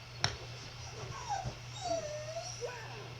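A dog whimpering nearby in a few high, wavering whines, with a sharp tap at the start and a low hum underneath.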